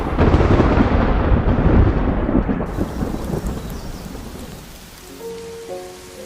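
A thunderstorm on the Serengeti with heavy rain, thunder rumbling loud and close over a steady downpour, then easing into fainter rainfall with a few distant tonal calls near the end.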